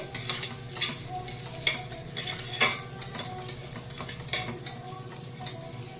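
Toor dal roasts in a hot pan, giving a soft steady sizzle broken by repeated scraping stirs of a spoon at an uneven rhythm, close and clear with no talking.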